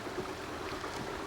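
Water from a small rock waterfall in a home garden railroad layout splashes and trickles in a continuous soft rushing wash, faint and steady with no voices.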